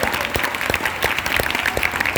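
A small indoor audience claps, a loose ragged patter of individual hand claps at moderate loudness, sustained for a couple of seconds with faint murmuring underneath.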